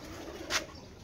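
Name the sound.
pigeons cooing at a pigeon breeder's loft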